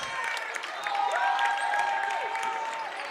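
A boys' high school basketball crowd in a gym cheers and claps steadily, a dense, fairly distant roar with whistles and shouts mixed in and sneaker squeaks cutting through.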